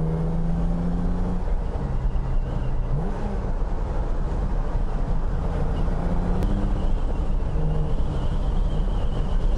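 A BMW E9 3.0 CSL drives along a road with a steady engine drone and shifting tones, heard from inside the car at a constant, fairly loud level.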